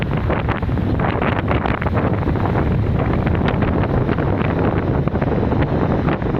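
Strong wind roars steadily across the microphone at the beach on Sigata Island in the Tello Islands, Nias, with rough surging sea waves churning underneath throughout.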